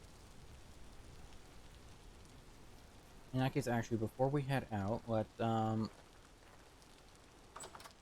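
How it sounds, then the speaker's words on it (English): Steady rain pattering in the game Vintage Story runs as a soft, even background hiss throughout, with someone talking briefly over it in the middle. "sounds of the rain as we take an ad break"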